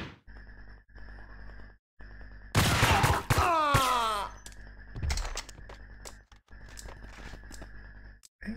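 Ingram submachine gun in the shooter game Max Payne, a loud rattling burst of automatic fire followed by a shorter second burst, set against a steady humming game background with clicking effects.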